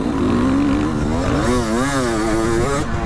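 A nearly new four-stroke motocross bike engine revs loudly and close, the throttle blipped up and down in a couple of rising and falling surges.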